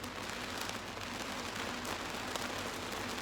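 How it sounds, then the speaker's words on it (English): Rain falls on a bubble tent in the Chilean desert, a dense and even patter on the taut surface that holds steady throughout. "It's raining."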